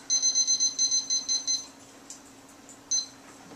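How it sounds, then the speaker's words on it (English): An oven timer gives a quick run of about ten sharp electronic beeps while being set in a kitchen, then a pause, a faint click and one more beep, close by and alone. "And now we set the timer."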